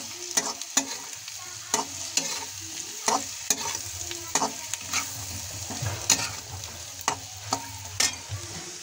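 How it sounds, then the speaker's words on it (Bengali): Potatoes frying in a pan with a steady close sizzle, broken by regular sharp scraping knocks of a spatula stirring them, moderately loud with no talking. "আলুটা একটু ভেজে নেব"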